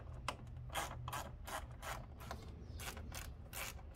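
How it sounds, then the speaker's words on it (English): A quarter-inch drive ratchet loosening 8mm fan shroud bolts, giving a steady series of quiet, fast clicking ratchet strokes in rhythmic bursts, close up with no talking. "We use our little quarter inch drive."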